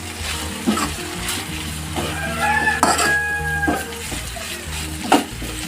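A spoon stirs cooked ivy gourd (tondli) with crushed peanut powder in a pan, giving soft close scraping and occasional clinks against the metal over a faint sizzle, steady and unhurried, with no speech.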